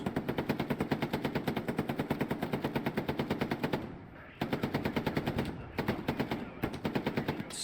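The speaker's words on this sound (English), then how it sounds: "Oh, but he doesn't survive the MG of Anthrax." Machine gun fire in the World War II shooter Hell Let Loose, long rapid bursts of sustained automatic shots with brief pauses, loud and close, with no voices over it.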